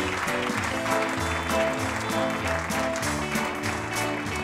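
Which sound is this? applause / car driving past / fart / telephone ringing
applause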